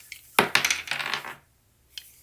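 Dice tumble and clatter onto a surface during a tarot-style game, a cluster of sharp hard rattles and skittering clicks up close, settling within about a second, followed by one faint tap.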